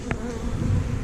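Honey bees buzzing at an opened hive being inspected, a dense, steady close-up hum with one brief louder buzz as a bee passes near.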